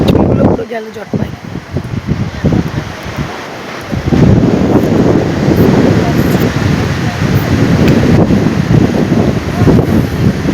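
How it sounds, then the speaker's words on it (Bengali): Waves and strong wind roll in continuously along a shore, a steady broad roar that swells after the first few seconds, with brief voices near the start. "কি সুন্দর ঢেউ উঠছে,"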